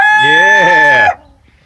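A rooster in a yard where roosters have been fighting lets out one loud, close crow lasting about a second, then falls quiet.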